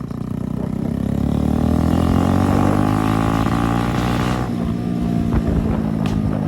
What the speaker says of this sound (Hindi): इसके पहले गियर में आपको आवाज़ सुनाता हूँ कितनी आती है भाई